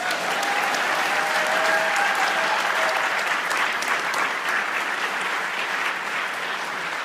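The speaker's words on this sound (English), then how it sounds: "I think these two ladies deserve a round of applause for it." A town hall audience gives sustained, even applause, with a crowd clapping loudly and steadily from start to finish and a few faint whistles early on.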